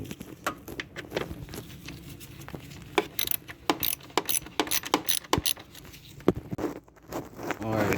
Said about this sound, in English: the only thing holding the fan in place is this 25 Torx bolt right here. So we're just gonna remove that.